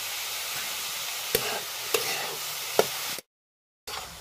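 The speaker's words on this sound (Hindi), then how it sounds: "ये केले का फूल भी डाल दिए हैं, इसको भी अच्छी तरह से फ्राई कर लेते हैं पहले" Banana flower and potatoes fry in a pan over a rural village fire, giving a steady close hiss punctuated by three sharp spatula clacks, then a brief dropout before the sizzle resumes.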